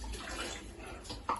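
Plain water poured into a flour batter seasoned with turmeric and salt, a soft trickling splash that runs steadily before a brief sharper splash near the end, close and quiet, no talk.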